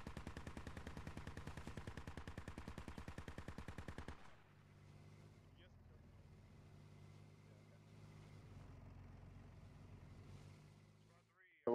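Rapid machine-gun bursts in Squad fire as a fast, steady rattle for about four seconds, then give way to a low idling engine drone, and a sharp loud crack lands at the very end.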